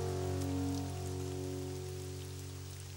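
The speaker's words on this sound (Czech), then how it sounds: "Takhle už prší celou věčnost." Steady rain falls in the Czech-dubbed children's animated show Bob the Builder, a constant even hiss of drops on surfaces that fades slightly over a few seconds, with no voices over it.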